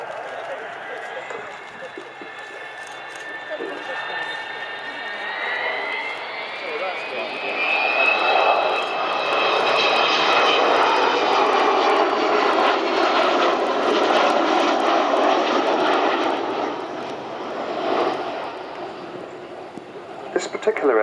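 An Avro Vulcan B2 bomber flies past at an air show, its jet engines making a loud, rising roar with a distinctive howling whine. The sound swells and sustains, then recedes, while a commentator talks over it.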